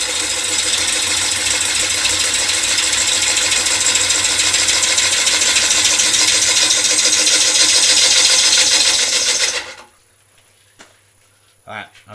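Wood lathe spinning a sycamore bowl blank while a gouge cuts, a loud steady whirring drone with broadband cutting hiss that stops abruptly near the end, followed by near silence.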